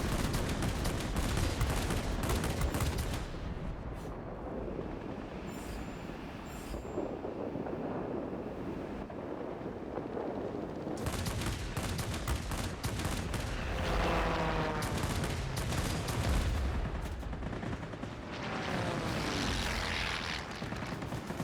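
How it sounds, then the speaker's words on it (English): Rockets firing in a video game, heard as loud, harsh bursts of broadband blasting and rumbling that come in two main waves with quieter gaps between them, with no talking. "Too late on the rockets."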